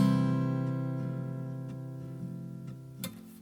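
A guitar chord strummed once with all strings ringing openly, its full harmonic tone sustaining and slowly fading over a few seconds, with faint small handling noises.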